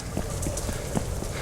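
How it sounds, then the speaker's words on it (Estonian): Running footsteps in the horror video game The Joy of Creation: Reborn, quick muffled thuds in a steady galloping rhythm over a constant low droning background. "Ma kuulen teda jooksmas! See on hirmus!"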